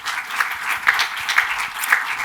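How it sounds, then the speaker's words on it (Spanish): Audience at a panel event applauding steadily to welcome a guest, a dense even wash of clapping from a seated crowd, fairly loud and continuous. "al que recibimos ya con un aplauso"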